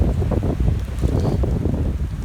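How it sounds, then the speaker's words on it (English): Wind gusts steadily through beech leaves on Black Mountain, a continuous close rushing roar with microphone buffeting and no speech. "The wind is really blowing today."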